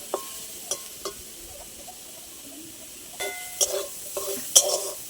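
Boiled bottle gourd leaves fry with garlic in oil in a village kitchen, with a soft continuous sizzle broken by several scraping stirs and utensil clinks against the pan.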